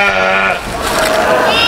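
A goat bleats loudly and close, one long wavering call with a brief dip before it rises again, with no talk.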